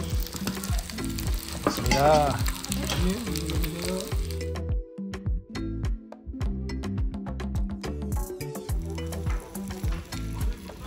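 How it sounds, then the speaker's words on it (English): Bibimbap sizzles and crackles steadily in a hot stone bowl while a utensil stirs and scrapes, with a brief remark spoken over it. "So some sizzling bibimbap."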